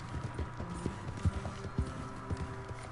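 Horse hooves clip-clop in Red Dead Redemption 2, a steady walking rhythm of distinct hoof strikes over low game ambience, close and moderately loud with no talking.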